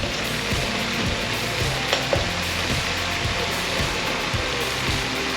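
Chicken frying in a pan for a one-pan family dinner, a steady close sizzle with periodic low scraping knocks from stirring, no voices.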